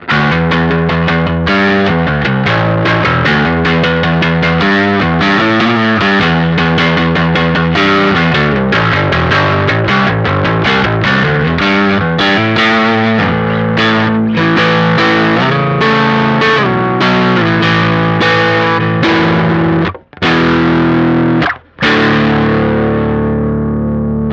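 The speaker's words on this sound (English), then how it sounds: "Let's go ahead and put it back into the overdrive mode." Distorted electric guitar played through a Harby Pedals Noble Tone Drive in overdrive mode, with aggressive, crunchy chords and riffs ringing loud and continuous, ending with a few sustained chords.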